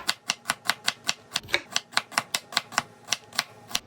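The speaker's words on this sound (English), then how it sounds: "To get there, we need to chop up some onion." A knife chops onion on a cutting board with steady, evenly spaced sharp knocks, about four per second, close and clear with no talking.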